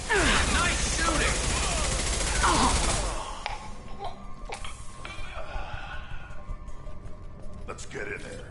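Gunfire in the game Mass Effect 2: a loud burst of rapid automatic shooting for about three seconds, then quieter scattered sounds with speech in the background.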